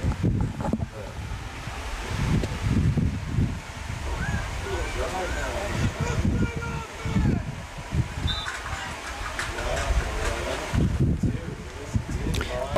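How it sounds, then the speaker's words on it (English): Steady outdoor wind rumbles and buffets the microphone at Barnhart Field during a 7th grade football game, with a broad rushing noise throughout and voices faintly mixed in. "A little windy here at Barnhart Field."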